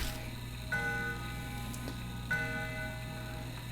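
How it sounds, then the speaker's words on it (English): Close, resonant ticks from an antique grandfather clock, two clear metallic strikes with ringing tails over a steady low hum and no voices. "It's an antique grandfather clock. The noise is definitely coming from here."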